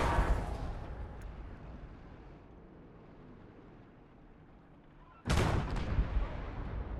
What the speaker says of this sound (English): It's a tough tank, but it's no match for all of my tanks shooting it at the same time.